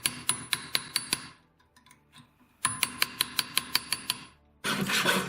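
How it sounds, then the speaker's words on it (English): Metal rings out under a hammer as a forged metal ring is worked on: a run of six sharp, evenly spaced strikes, a quiet pause with faint clinks, then a faster run of about ten strikes and a burst of rustling. "or you can just hammer it over."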